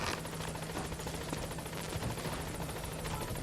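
Support helicopter arriving at a landing zone in the video game Metal Gear Solid V, its rotor chop and engine drone steady and loud.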